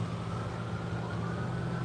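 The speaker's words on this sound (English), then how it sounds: "Oh, and I hear sirens." An ambulance siren sounds at a distance in an outdoor riverside setting, a steady wail with a faint rising tone running through the whole moment under continuous low rumbling background noise.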